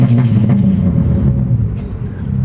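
A BMW 330i accelerates under light throttle, a close, steady low engine rumble heard from inside the car with no talk.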